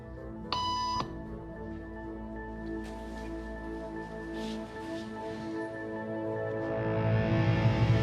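A short electronic beep tone sounds near the start in a quiet waiting room during a conformity experiment, followed by soft room noise and faint rustling.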